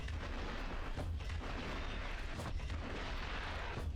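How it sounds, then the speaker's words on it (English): Gunfire from a second gun in a video game: a steady run of dense, booming reports that repeat without a break, heavy and close, with no voices. "I have such an awkward way of firing the second gun"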